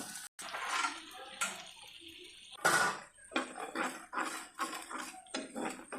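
An egg dish being stirred in a pan with a utensil, giving quiet, irregular scraping and clinking strokes, close by.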